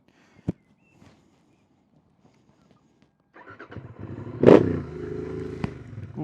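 A motorcycle engine fires up after a few quiet clicks and knocks, then settles into a steady, close idle with a sharp rev spike and a rough, throbbing mechanical rumble.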